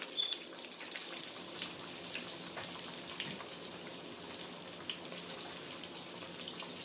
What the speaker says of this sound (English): we're going to put it in this hot oil